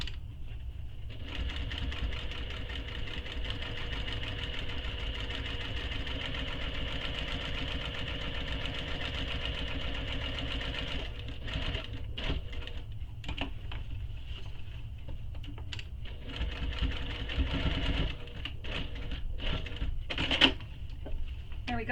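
A sewing machine top stitches the bottom edge of a small messenger bag with a continuous motor hum that later breaks into short, stop-start bursts.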